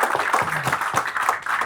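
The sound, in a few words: audience applause for the panels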